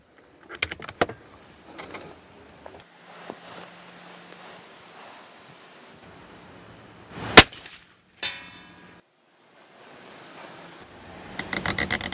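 Rifle fitted with a Sig Sauer Buckmaster 3-9×40 scope, fired on a shooting range: one sharp, loud crack stands out in an otherwise quiet stretch of faint clatter and handling noise, followed by a short ringing burst.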